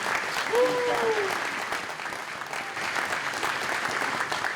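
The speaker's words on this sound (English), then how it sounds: "I also do think you should give this lady a round of applause." An audience applauds a woman at the Saskatchewan Baseball Hall of Fame 2024 induction ceremony, with sustained clapping from the crowd and a whoop near the start that fades slightly toward the end.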